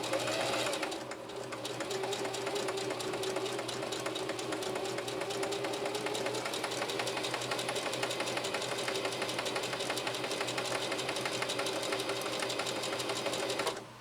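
A Singer Heavy-Duty 4423 sewing machine runs at speed, a fast even mechanical chatter of the needle that holds steady for several seconds before stopping, close up with no talk over it.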